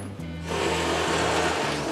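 Drill bit boring pilot holes into car body sheet metal, a steady motor whine with a low buzzing hum that surges as the bit bites, running continuously for a couple of seconds close by.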